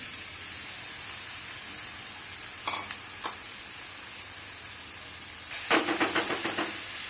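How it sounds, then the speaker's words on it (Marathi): Onion is tossed into a hot pan of oil with chillies, a continuous hissing fry that flares into a louder crackling sizzle with a few quick stirring scrapes near the end. "तर मी कांदा घालून टाकते।"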